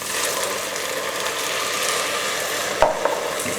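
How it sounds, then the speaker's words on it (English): Red wine hits a hot pan of lamb and sizzles, a loud, steady frying hiss that holds for a few seconds, with a couple of sharp clacks from a utensil near the end. "So I'm going to go in with the red wine."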